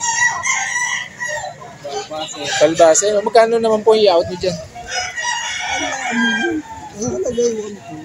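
Roosters crow repeatedly at a busy poultry market in Lipa City, Batangas, overlapping with people talking nearby throughout.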